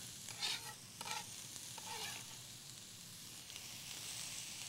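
Onion and garlic sizzle in olive oil in a hot pan, a steady broadband frying hiss with a few brief stirring scrapes near the start, heard alone without talk.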